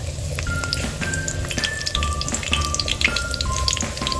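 Catfish pieces and curry leaves sizzle in hot oil with a steady, close frying crackle and scattered pops, continuous and fairly loud throughout.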